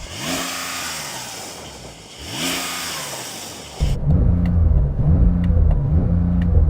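A Porsche 911 Turbo S engine revs hard twice, climbing and falling in pitch, then settles into a loud, throaty idle with rhythmic burbling pulses.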